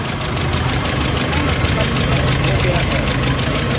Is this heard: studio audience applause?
no